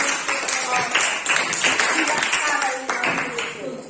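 A classroom of students clapping for a group presentation, a burst of quick overlapping claps with voices mixed in, close and moderately loud, tapering off at the end.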